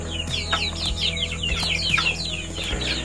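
Young native kampung chicks peep and cluck in quick repeated chirps close by in a small poultry pen, with a few light knocks in between.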